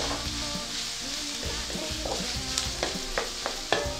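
Chopped pork frying and sizzling in a hot pan with onions while being stirred, steady crackling sizzle broken by repeated scraping taps of a utensil against the pan, close and continuous with no talk.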